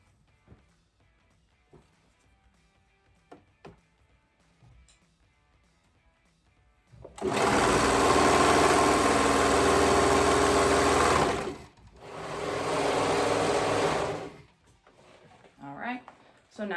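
A sewing machine stitches a neckband onto a garment in two loud, close bursts, a long run and then a shorter one, after a quiet stretch of soft handling noises.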